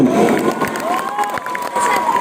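Crowd at an Odia village festival cheering and shouting, a loud continuous wash of voices with a whistle-like tone sliding through, steady from start to finish.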